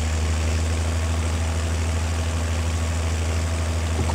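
A tractor engine idles steadily in Farming Simulator 22, a constant low, heavy drone with a faint hum above it, close and unbroken throughout.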